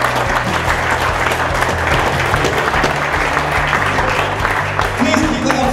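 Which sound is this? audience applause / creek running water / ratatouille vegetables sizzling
audience applause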